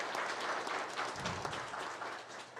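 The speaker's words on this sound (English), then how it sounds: "Let's give them a round of applause." An audience at an apprenticeship conference applauds in a short, soft, continuous patter of clapping, somewhat distant, with a low rumble partway through and no clear speech.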